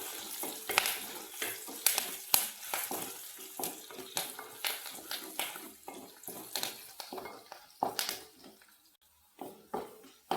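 Curry leaves frying in hot oil for an Onam sadya date pickle crackle and pop in sharp, irregular bursts while a utensil stirs and scrapes the pan close by.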